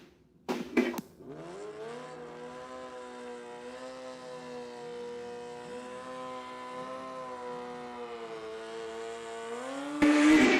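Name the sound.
drag racing motorcycles at a street legal drag strip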